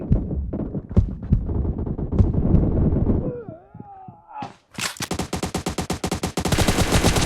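Rapid automatic gunfire in PUBG, loud and close, a dense rhythmic burst after a stretch of mixed game sounds, with a brief ringing tone between.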